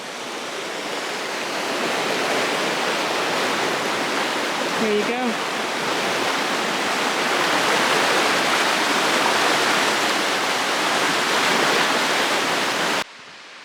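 The White River rushes past a forest campsite in a loud, steady broadband roar up close, with a person speaking briefly over it before it cuts off abruptly.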